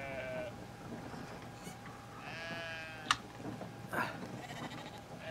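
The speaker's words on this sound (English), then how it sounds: "talk to the sheep" Sheep bleat faintly in the video game Brothers, a few wavering calls scattered among soft background ambience, with no talk over them.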